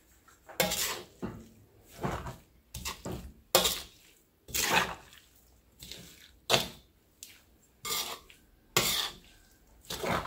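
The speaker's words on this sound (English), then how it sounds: "We keep on sauteing" Coconut and sugar sauté in a pan for Indian coconut burfi, with a utensil scraping and clinking against the pan in regular strokes about once a second. The scraping is close and plain, with no talk over it.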